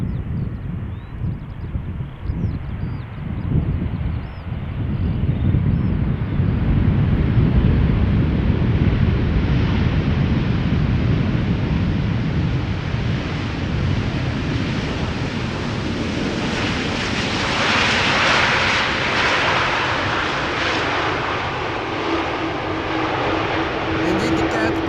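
A broad, steady jet roar from a Boeing 787 at Schiphol Airport fills the space, swelling gradually in a rushing wash of noise like an airliner passing overhead.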